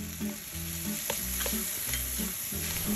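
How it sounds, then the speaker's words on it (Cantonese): Preserved mustard greens stir-fried in a wok with oil, grated ginger, coriander roots and fermented red bean curd, giving a loud continuous sizzle with rhythmic scraping strokes of the spatula against the wok. "同個梅菜一齊爆香佢。"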